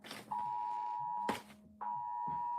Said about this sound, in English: Anybody else got that emergency alert?